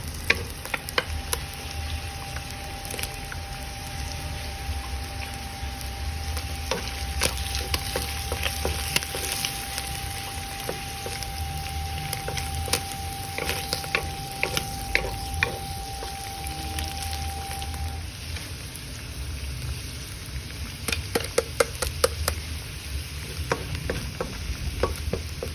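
Butter sizzling and frying in a pan for sautéed garlic shiitake mushrooms, a continuous crackling sizzle with steady stirring scrapes, close and moderately loud, no voices.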